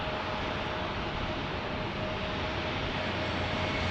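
A JetBlue airliner arriving from Boston at San Diego airport gives a steady, broad jet roar that holds evenly throughout, with a faint tonal whine running beneath it and no voices.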